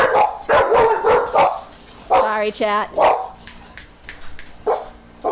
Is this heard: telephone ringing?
no